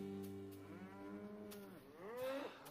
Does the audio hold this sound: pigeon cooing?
no